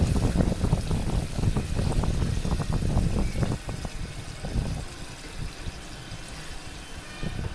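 Water splashes into a pan of broiler chicken bhuna curry with green chilies, a close, noisy pouring rush for about three and a half seconds that then eases into a quieter, softer simmering wash.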